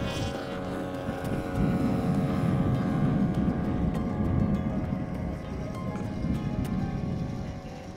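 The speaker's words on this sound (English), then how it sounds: "Flip for engine start." A subscale RC aircraft engine starts up and runs, a steady droning propeller hum with a tonal whine, heard outdoors with some talking.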